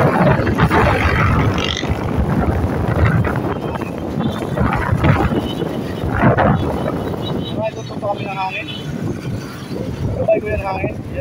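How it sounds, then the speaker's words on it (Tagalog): Strong wind buffets a microphone during an outdoor bicycle ride from Alabang toward Calamba, a continuous loud rumbling roar with gusty surges and people talking now and then. "Hangin"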